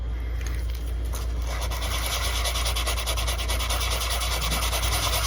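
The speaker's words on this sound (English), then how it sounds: "you're scuffing it. I'm not sanding into it, not changing the profile of it." Sandpaper scuffs back and forth over a textured plastic baby-belly shad fishing lure, making a close, steady rasping rub with quick repeated strokes and no talking.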